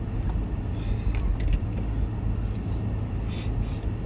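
A 4WD vehicle reversing down a steep high-country track, its engine a loud, steady low rumble close by, with faint rattles and knocks over it and no talking.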